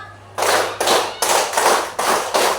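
A classroom of students claps together in a counted rhythm pattern, five loud, close bursts of group clapping separated by short gaps.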